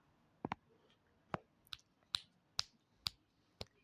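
Fingers snap eight times, sharp, close and crisp, in an irregular rhythm with short quiet gaps between the clicks.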